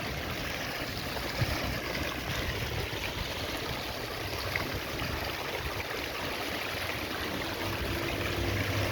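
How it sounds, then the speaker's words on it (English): Water from a fountain outside a Royal Bank of Canada branch on a street in Barbados rushes in a steady, even wash with no breaks or voices. "So this is the water fountain outside of the Royal Bank."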